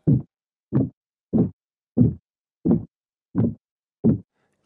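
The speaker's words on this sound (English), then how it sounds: "You will hear that these sounds are muffled comparing to the original woodstep sounds." Seven soft, muffled thuds at an even walking pace, dull and low, like footsteps on a wooden floor, with silence between each step.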